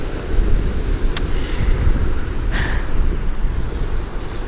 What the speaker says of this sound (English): it's super windy. And as I'm saying, you're going to hit ocean waves because I'm at the beach